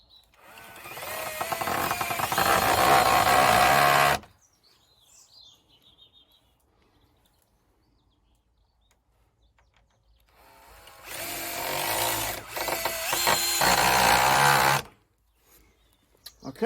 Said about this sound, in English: We've got 2 screws at the bottom and we're putting in 2 screws down below.